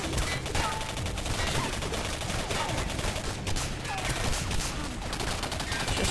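Continuous gunfire in the shooter game Singularity, dense overlapping shots and bursts that keep going without a break, loud and busy throughout.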